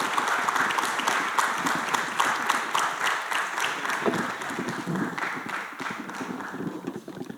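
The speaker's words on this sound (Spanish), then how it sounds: "un aplausito" Sustained applause from an audience at a film festival talk on storytelling in game cinematics, steady dense clapping filling the whole stretch at moderate loudness with no voices over it.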